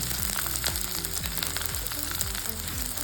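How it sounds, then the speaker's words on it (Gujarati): Cabbage and capsicum sauté in a pan for a hotel-style pulav, giving a steady close sizzle and crackle with scraping stirs throughout, and no voices. "અત્યારે મેં લગભગ અડધો કપ કોબી લીધેલી છે એ એડ કરીશું અને એની સાથે પાકો કેપ્સિકમ લઈશું"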